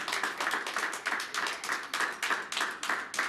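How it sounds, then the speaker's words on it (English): An audience at a fundraising speech for a radio station launch claps in a steady, rhythmic pattern, with bursts of hand claps repeating every third of a second, loud and close. "Keep clapping. Keep clapping."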